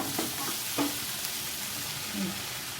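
Slices of bread frying in a pan give a steady, close sizzle, with a few soft scrapes and shifts as the pieces are moved.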